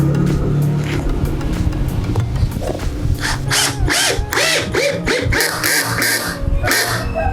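A 12V cordless hammer drill drives a 5 cm black screw into material, its loud motor whirring continuously with repeated bursts of grinding and rattling impacts throughout.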